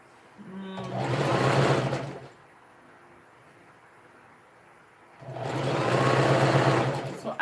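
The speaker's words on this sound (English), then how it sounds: "It's the vibration of the sewing machine." Domestic sewing machine stitching a princess dart on a dress, running in two bursts of rapid mechanical whirring and needle chatter about two seconds each, separated by a quiet pause of low hum.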